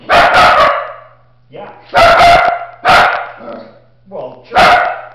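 A dog barks loudly and close by in four or five sharp bursts, with a softer whimpering yip between them and a low steady hum underneath; a person speaks briefly.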